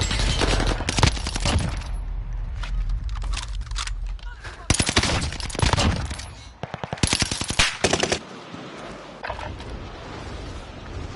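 Video game gunfire in bursts of rapid machine-gun and rifle fire, loud and close, with several long fusillades broken by short pauses.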